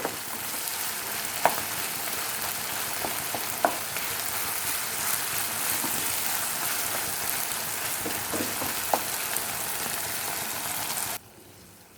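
Mutton fries in oil in a pan, a steady dense sizzle like light rain that runs continuously, with occasional small pops and stirring clicks, then cuts off abruptly near the end.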